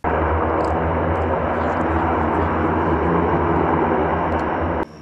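An An-24 passenger airplane of the Amur airline roars steadily at an airport, a loud, continuous broadband engine and propeller drone that holds level throughout before cutting off abruptly near the end.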